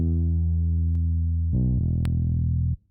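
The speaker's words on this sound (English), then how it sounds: "Rasta bass preset, which I think sounds pretty dang good." Rasta bass synth preset played dry without effects: a sustained, buzzy low note that steps to a second pitch and then cuts off, loud and close, with no talk.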